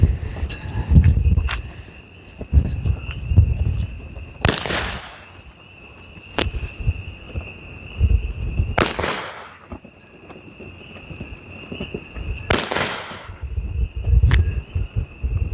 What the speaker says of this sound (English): Falling leaves and then a crackly break at the end.